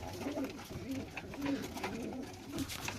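Pigeons in a breeding loft cooing softly, with repeated low, throaty coos over a steady background murmur.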